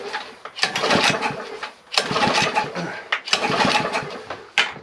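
A 1964 Rupp Continental's small engine sputters and catches in rough, uneven bursts with brief gaps between them, loud and close, as it tries to start and run.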